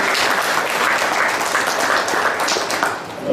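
Dense, sustained applause from a lecture audience welcoming a guest speaker, loud and close, a steady wash of many hands clapping that fades slightly at the end.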